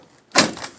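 A brief scrape as the back window of a Toyota Tacoma slides open, a short sharp rasp after a quiet moment, close and alone.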